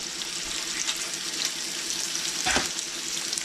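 Beef sautéing in a pan for stroganoff gives a soft, steady sizzle with light crackle and a brief louder scrape or stir near the end, fairly quiet and without talk.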